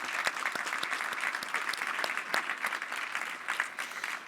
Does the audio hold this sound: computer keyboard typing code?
no